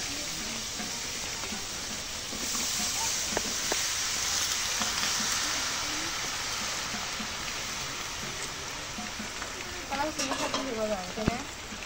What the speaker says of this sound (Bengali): এখন কচু শাকটা দিয়ে দিই।